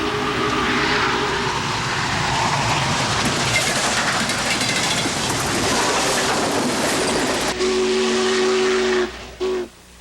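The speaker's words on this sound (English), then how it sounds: "Railroad managers decided to run both steam giants, 3985 and 8444, side by side." Union Pacific steam locomotives 3985 and 8444 run side by side, giving a dense, roaring wash of steam exhaust and hiss with a long, loud whistle tone sounding through it before cutting off near the end.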